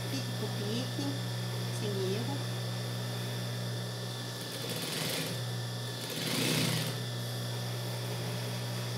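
Sewing machine stitching a seam along a child's dungaree garment, a steady high-pitched motor whir running throughout with brief surges, while someone talks over it nearby.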